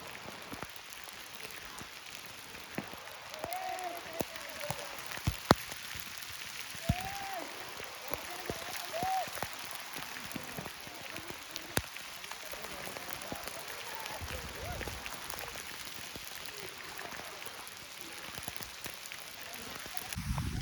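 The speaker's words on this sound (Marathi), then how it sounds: "फुल पाऊस फुल पाऊस" Heavy rain falls in Sheldi, Khed, as a soft, steady broadband patter heard at a distance, with voices talking intermittently over it.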